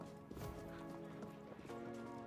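Horses galloping in the video game Conqueror's Blade, a steady clip-clop of hooves with an occasional whinny, close and continuous under a busy battle mix.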